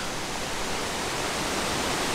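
A waterfall in the Cévennes mountains, a continuous broadband rushing roar that stays steady and loud throughout, with no voices.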